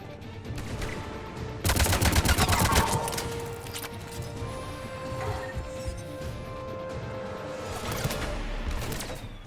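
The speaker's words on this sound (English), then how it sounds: "What the fuck is shooting me?" Gunfire in Mass Effect 3 during a fight on the Geth dreadnought, with dense bursts of rapid automatic shots, a heavy volley in the middle and another burst near the end, over game noise.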